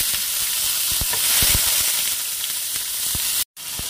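Chicken, onion and tomato hit a hot pan with cloves, giving a steady, close sizzle with scattered popping crackles throughout and a brief break just before the end.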